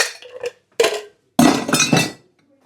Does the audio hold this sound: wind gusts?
no